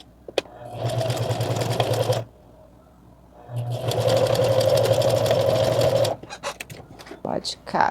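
A sewing machine stitching fabric for a pouch, two sustained whirring runs of fast stitching separated by a pause, close up, with brief handling noises at the end.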